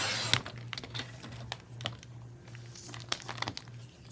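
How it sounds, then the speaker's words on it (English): Paper trimmed off the end of a sheet for a handmade journal makes quiet, irregular crinkles and crisp snips and ticks, close up and fairly faint, with brief pauses between cuts. "I'm just gonna trim a tad off the end here."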